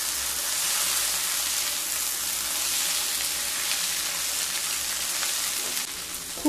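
Fried egg and snake gourd (chichinga) are stirred together in a pan, giving a continuous soft sizzle with faint scraping throughout, fairly close and steady.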